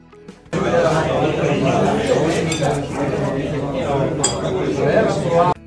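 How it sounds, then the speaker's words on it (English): Crowded restaurant din: overlapping chatter from many people with frequent clinks of cutlery, plates and glasses, steady and loud throughout. "This is the background noise that is heard in many restaurants."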